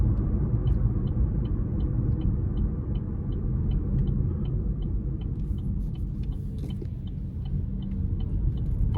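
A 2024 Chevrolet Trax 1RS with a 1.2-liter turbocharged three-cylinder engine drives along, giving a steady, continuous low rumble of engine and road noise throughout, with no talking.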